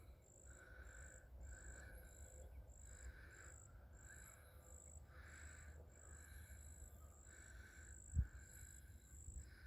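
Outdoors on a winter walk, a bird calls in a steady series of regular short, high chirps over a faint background hum, with one soft thump near the end.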